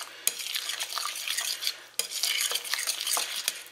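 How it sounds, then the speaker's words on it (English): Egg yolk broken and mixed in a bowl for savory squash patties, heard as a steady scraping, whisking stir with two sharp clinks against the bowl, close and alone. "I'm going to break the yolk and mix it up in here"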